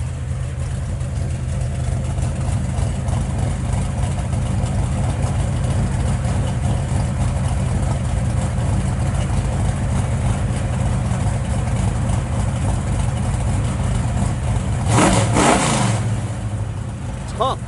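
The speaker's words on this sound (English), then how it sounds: "Sounds really good out the exhaust. Got 3-inch exhaust on it." A 1967 Plymouth GTX Belvedere with a 440 engine and 3-inch exhaust idles in a loud, steady, deep rumble, with a brief rev near the end.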